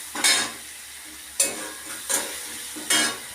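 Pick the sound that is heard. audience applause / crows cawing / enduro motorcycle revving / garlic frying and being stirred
garlic frying and being stirred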